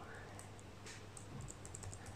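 Keys are typed on a computer keyboard, entering a word into a Windows search bar. The clicks are quick, light and faint against a steady low hum.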